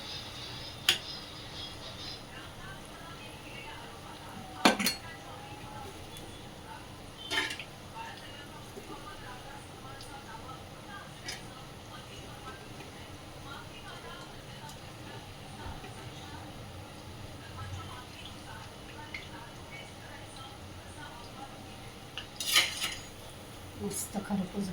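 Dishes and plates clink and clatter now and then as hot bhaji is served with pav and chutney at home, sparse close knocks over a low background hum.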